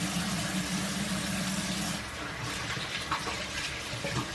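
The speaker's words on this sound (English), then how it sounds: "let me wash my hands real quick" Hands being washed under a running tap: steady rushing water near and fairly loud for two seconds, then softer splashing and dripping as the flow changes.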